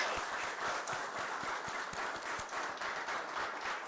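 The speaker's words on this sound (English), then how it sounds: "Guys, clap for her." An audience clapping for a student who ranked first, a dense, even patter of many hands sustained throughout, moderately distant and without voices.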